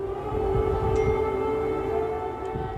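Civil defense air raid sirens sound across Kyiv, a steady sustained wail with layered harmonic tones that holds level and loud throughout, with faint background rumble.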